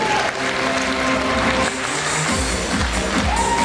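A pageant audience at the Miss Abakhai final claps for the winner of the Miss Ethnostyle title. The applause is loud and continuous, mixed with tonal music and some low rumble.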